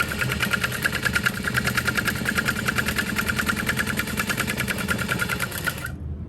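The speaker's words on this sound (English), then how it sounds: "We're gonna sew that into place." Sewing machine stitching a backpack's bottom panel into place, a close, steady rapid mechanical whir with fast regular needle beats, stopping abruptly at the end.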